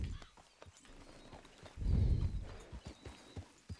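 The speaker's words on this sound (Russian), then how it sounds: "Так, это наша лошадь." A trotter horse's hooves clip-clop in a quick rhythmic trot in the video game Red Dead Redemption 2, fairly quiet, with a louder low rumble swelling briefly in the middle.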